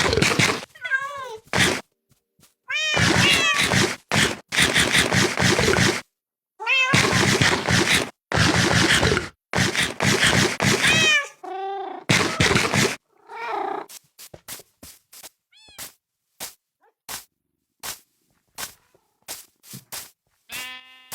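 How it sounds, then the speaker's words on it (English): A cat in a Minecraft video game meows repeatedly and loudly, with long drawn-out calls giving way to a rapid series of short clicks and chirps near the end. "Whoa, kitty."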